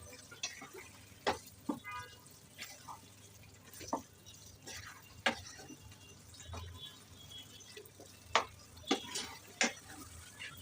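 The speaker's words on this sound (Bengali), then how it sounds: "ভিনিগার দিয়ে ভালো করে মিশিয়ে নিচ্ছি, প্রত্যেকটা আচারের গায়ে গায়ে যেন লেগে যায়।" Dried jujube pickle being stirred with white vinegar, heard as scattered clicks and soft scraping of a spoon against the container at an irregular pace over a quiet background.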